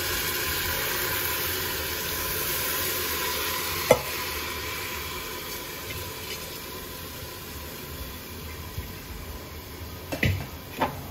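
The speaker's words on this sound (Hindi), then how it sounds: "जो ये हमारी चावल है ये सब डाल देंगे इसमें" Soaked, drained rice tipped into a pan of fried onions for kadhi jeera rice, giving a steady soft sizzle and stirring scrape with a couple of brief clinks near the end.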